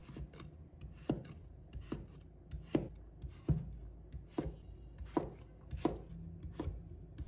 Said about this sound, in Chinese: 再把南瓜切成薄片， 然后切成条